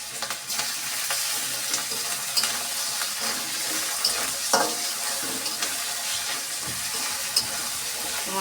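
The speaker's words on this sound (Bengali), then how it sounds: "মশলাটাকে ভালোভাবে ভাজলে কাঁচা গন্ধটা সরে যায়।" Cumin paste and spices fry in a pan with a dense, steady sizzle, broken by scattered clicks and scrapes of stirring, close up with no voices.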